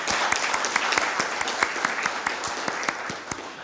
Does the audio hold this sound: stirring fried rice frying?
no